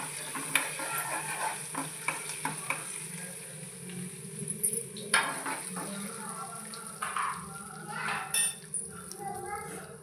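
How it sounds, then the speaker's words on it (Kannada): Peanuts and curry leaves fry in a pan with a soft sizzle and intermittent stirring scrapes, fairly quiet, while people talk and children's voices sound in the background. "ಸ್ವಲ್ಪ ಶೇಂಗಾ ನೋಡ್ರಿ ಫ್ರೈ ಮಾಡ್ಕೋಬೇಕು"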